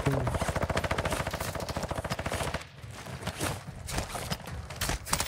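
Rapid machine gun bursts rattle in a fast continuous stream in Call of Duty: Modern Warfare II DMZ, then give way to scattered single shots and softer movement noises.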